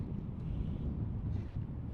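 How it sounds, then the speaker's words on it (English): Gusty wind buffets the microphone outdoors, a low steady rumble with slight swells, no voices. "It's windy out here."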